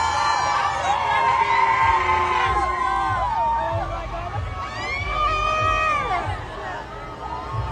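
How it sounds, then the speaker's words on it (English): A dense crowd roars with cheers, whoops and boos at Mayor Mamdani, surging in loud overlapping bursts of yelling voices over a steady background babble. "Mayor Mamdani was greeted with cheers and boos"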